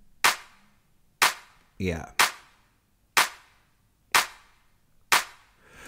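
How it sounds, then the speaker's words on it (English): Clap samples with reverb in Ableton for a soulful house track: six sharp, evenly spaced claps, each trailing off in a short reverb tail, with a brief spoken word between two of them. "let's listen to these claps with the reverb now"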